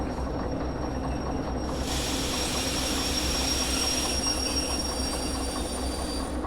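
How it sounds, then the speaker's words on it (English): A locomotive in the train game Derail Valley braking and slowing, giving a steady rolling rumble with a high, sustained wheel-and-brake squeal rising partway through; no voices. "put up a level of braking, start slowing the loco down"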